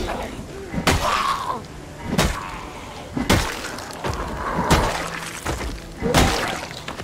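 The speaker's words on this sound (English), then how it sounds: "Crunchy cranium." Repeated heavy crunching smashes as a zombie's skull is bashed in Project Zomboid, sharp impacts landing about every second or so, loud and close over low background game ambience.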